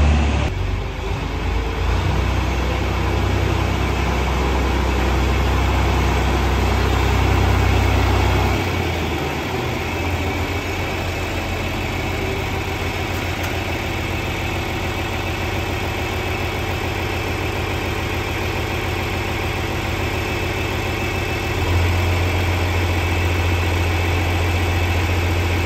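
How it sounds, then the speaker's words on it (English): An old tractor engine, one that smokes heavily, idles and runs with a steady, close, low rumbling drone and throbbing vibration for the whole stretch, with no speech over it. "Not a bad old tractor. It smokes a lot now, more than it used to"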